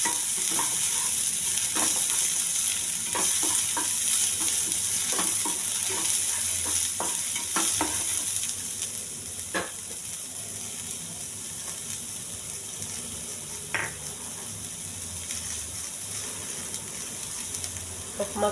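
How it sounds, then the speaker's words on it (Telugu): Onions frying and sizzling in a pan, stirred with repeated scraping strokes over a steady broadband hiss that softens midway, close and fairly loud. "కొన్ని ఉల్లిపాయలు, బాగా వేగించాలండి."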